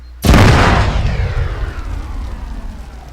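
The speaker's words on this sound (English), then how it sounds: "Just touch off the bombs." Bombs detonate in the Arma 3 military game: a sudden loud blast after a short quiet moment, followed by a deep rumbling roar that slowly fades over several seconds.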